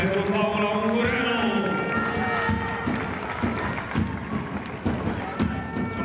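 Arena crowd at a women's handball match between CSM București and HCM Slobozia, applauding goalkeeper Paula Ungureanu's save; steady clapping and crowd noise under continuous commentary.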